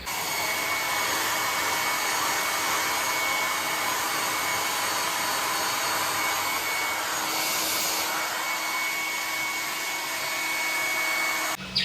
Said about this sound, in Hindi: तो अभी थोड़ा सा ड्रायर से बाल सुखा लेती हूँ